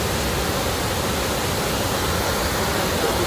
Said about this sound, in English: And there it is, Beaver Falls. This is Beaver Falls.